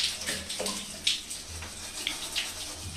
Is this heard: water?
yes